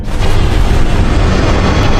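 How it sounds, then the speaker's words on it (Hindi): A huge animated explosion booms loud and close, a dense rumbling roar that fills the whole two seconds without letup. "अरे इतना बड़ा धमाका, मुझे जल्दी से सबको अलर्ट करना होगा"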